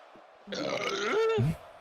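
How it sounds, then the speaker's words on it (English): A single loud, aggressive burp rumbles out for about a second, close and harsh, with a rough, throaty tail and no talk around it. "That sounded like an aggressive Tim Allen burp"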